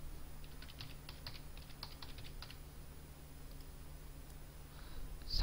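Computer keyboard keys tapped in a short burst of quick, light clicks while a business registration number is entered, then fading to a quiet room hum with no voices.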